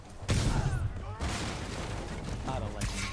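Gunfire erupts in a Spider-Man video game as bursts of shots crack out in quick clusters, with in-game voices talking over the action.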